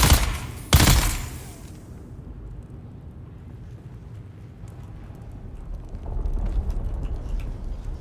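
Gunfire from a gun in the video game Dune Awakening, a loud burst of rapid shots near the start followed by a lower rumbling tail and scattered quieter impacts.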